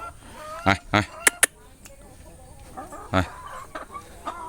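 A hen clucks in a few short, sharp bursts, close by, with quieter scratchy background noise between the calls.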